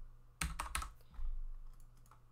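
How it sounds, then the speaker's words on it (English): A few sharp computer keyboard keystrokes, the up arrow key pressed in quick succession, close and fairly quiet over a low steady hum. "and now if we press the up arrow"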